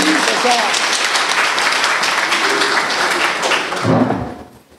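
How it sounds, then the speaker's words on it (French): An audience at a handover ceremony between incoming and outgoing directors bursts into dense, steady applause that holds for several seconds, then fades out quickly at the end. "si j'ai dit vrai, vous devez applaudir"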